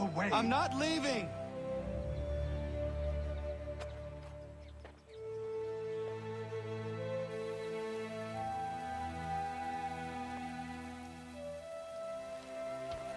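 Steady rain in the video game Assassin's Creed III patters continuously beneath a layer of sustained musical tones, with a brief burst of other sound at the start.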